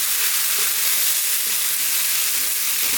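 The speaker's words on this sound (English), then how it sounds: "Let it sizzle." Corned beef hash made from canned beef sizzles steadily in a frying pan, a loud, constant close-up crackle and hiss throughout with no talking.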